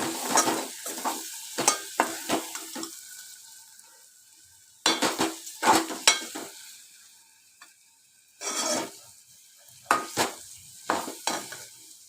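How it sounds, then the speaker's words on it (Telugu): Ginger and garlic with a little turmeric being stirred in a pan for an egg fry: soft sizzling under repeated scraping stirs that come in bursts, with quieter gaps between, close and fairly loud. "అల్లం ఎల్లిగడ్డ బాగా ఏగిపోవాలి ఎర్రగా ఏగితే ఇది మంచిగా ఉంటుంది"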